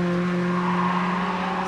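A Renault Spider Trophy race car with a 180-horsepower engine holds a steady, close, droning engine note, continuous and loud without breaks.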